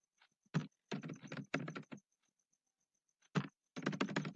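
Computer keyboard typing, close and quiet, in short bursts of rapid clicks with brief pauses between them.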